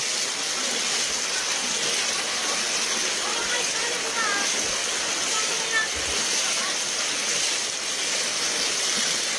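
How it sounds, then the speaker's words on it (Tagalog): A flooded river's strong waves roar in a dense, continuous wash of noise, loud and steady without a break, with faint voices underneath. "Ang lakas ng alon."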